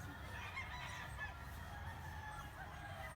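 Roosters crowing at sunrise over Baguio city, faint and distant calls mixed into a steady wash of town ambience.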